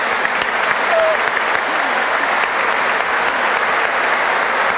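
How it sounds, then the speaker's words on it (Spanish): A congregation in a basilica applauds during Mass, a steady, even wash of many hands clapping that holds at a constant level throughout, with faint voices mixed in. "un aplauso fuerte para vos"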